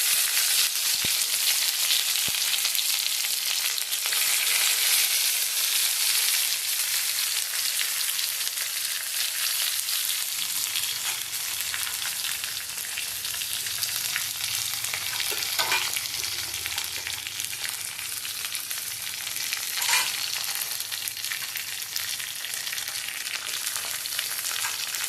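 Chopped onions frying in a pan for a Bengali jackfruit, prawn and chickpea curry, giving a continuous loud sizzle with occasional clinks of a stirring utensil against the pan and no voices.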